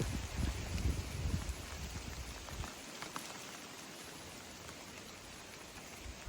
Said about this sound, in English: It started raining, but no thunder, no lightning, so no worries.